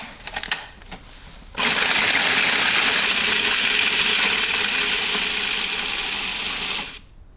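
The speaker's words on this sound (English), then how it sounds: "If you have a food processor, it's a really easy way to do this, but you can always do it with a box grater." Food processor grating Parmesan cheese: a few light taps, then a loud, harsh grinding whir starts abruptly, runs steadily for about five seconds and cuts off sharply.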